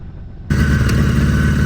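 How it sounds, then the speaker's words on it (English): A Honda GL1000 flat-four motorcycle engine idles with a steady low throb, cutting in abruptly from near quiet and holding a loud, even, slightly elevated idle close by. "Now the bike is wanting to idle a little higher, as you guys can hear."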